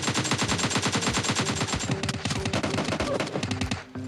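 Rapid automatic gunfire in the mobile battle-royale game PUBG Mobile Lite, loud and continuous bursts of shots for several seconds with no talk.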